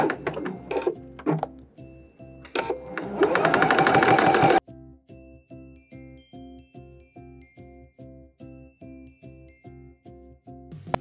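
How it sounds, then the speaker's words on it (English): Home sewing machine stitching a half-inch seam around layered fabric of an oven mitt, a rapid even run of mechanical needle thumps, close and steady, with a brief burst of rustling clatter before it. "let's go ahead and sew all the way around a half inch"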